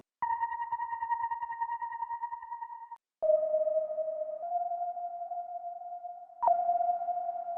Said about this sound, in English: The next one I take a whistle lead.